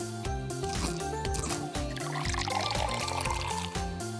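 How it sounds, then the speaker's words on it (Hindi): Water is poured onto mixed ingredients for a homemade face mask, a close liquid pouring and splashing sound with dripping and squishy textures, quiet and continuous. "इंग्रेडिएंट को मिलाएंगे और पानी डालेंगे।"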